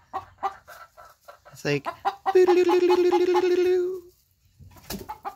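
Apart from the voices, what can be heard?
chickens clucking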